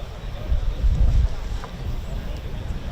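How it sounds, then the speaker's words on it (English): Gusty wind buffets an outdoor microphone at the Royal International Air Tattoo airshow at RAF Fairford, a loud low rumble that swells through the first second and then eases to a steadier rush. "The gust is very intermittent"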